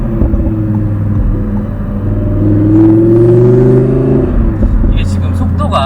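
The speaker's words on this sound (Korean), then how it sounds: "배기음이 팝콘이 토도도동." An Audi R8 V10 Spyder convertible, new model, with its high-revving naturally aspirated V10 cruising at about 40 km/h; a loud, steady engine drone rises slightly, then ends in a short burst of crackling exhaust pops.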